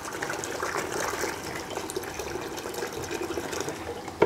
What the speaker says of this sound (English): I'll show you where we dispense our natural seawater, and we'll fill our sample vials